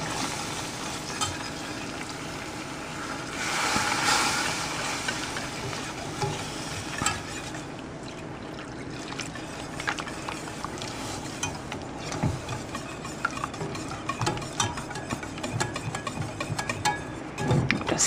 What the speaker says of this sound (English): Stirring to make sure we have no lumps in there.